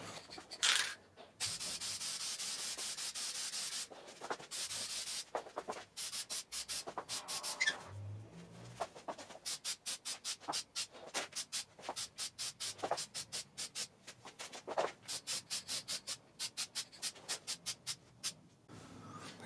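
A spray paint can lays heavy cross-hatched coats onto a Mazda MX-5 Miata rocker cover, a long run of short hissing bursts repeated in quick rhythmic succession, close and fairly quiet.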